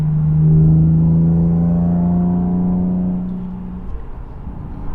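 A Nismo 370Z fitted with a Fast Intentions exhaust cruises in 4th gear around 3,000 RPM, giving a steady, low droning hum with layered harmonics that holds even and then eases off slightly toward the end.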